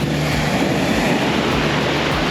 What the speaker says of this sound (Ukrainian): Є хвилі.